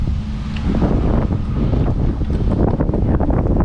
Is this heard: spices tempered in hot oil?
no